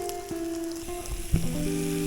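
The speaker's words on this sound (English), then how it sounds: "fresh off the oil, hot and sizzling" Hot oil sizzles and crackles steadily as fish fry, with a few clanks and scrapes of cookware close by.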